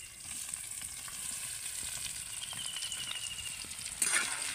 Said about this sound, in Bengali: এবার আমাকে কিছুক্ষণ কিন্তু আমটাকে এইভাবে নেড়ে চেড়ে তেলের মধ্যে ভেজে নিতে হবে।